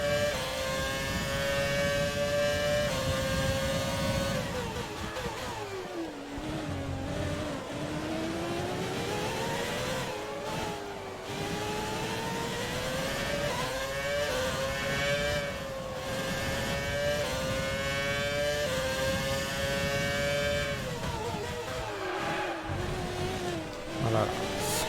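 A Formula 1 car engine in the F1 2020 racing game screams at high revs, its pitch climbing through each gear and dropping sharply on shifts and braking, loud and continuous throughout.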